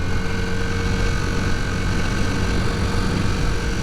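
A Honda CB250 Super Dream motorcycle engine running steadily and loud, held below 5,000 RPM by a fault, with a constant drone and a faint whine and no rise in pitch.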